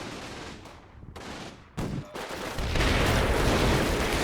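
Several infantry squads fire rifles in the Combat Mission: Battle for Normandy war game, with sharp overlapping gunshots building into a dense, loud fusillade of continuous gunfire.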